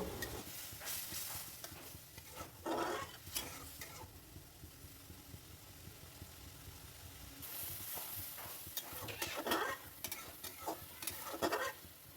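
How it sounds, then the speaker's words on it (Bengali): Masala seasoned with salt is stirred in a pan over a soft, quiet sizzle, with intermittent scraping strokes of the spoon returning in bursts. "আরেকটু ভালোভাবে মশলাটাকে কষে নেব।"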